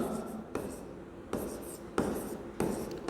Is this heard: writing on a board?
yes